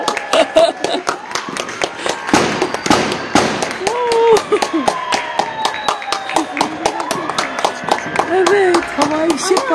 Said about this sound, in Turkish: Evet, havai fişek vardı. Evet. Havai fişek atıyorlar.